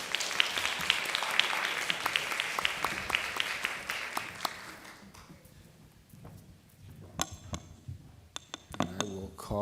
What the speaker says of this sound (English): please give a round of applause for our panelists